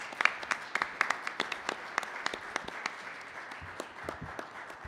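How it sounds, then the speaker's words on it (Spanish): A sparse audience at a book presentation claps, with individual hand claps standing out in an uneven rhythm over a softer background of clapping, moderately near and fairly quiet. "Aplauso para ellos, donde quiera que se encuentren."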